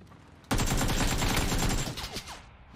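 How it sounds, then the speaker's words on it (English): A sudden, close burst of rapid automatic gunfire in a video game rattles for over a second, then trails off into a few fading echoes. "Those shots seem really delayed."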